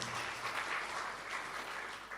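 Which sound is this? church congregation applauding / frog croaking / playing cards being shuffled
church congregation applauding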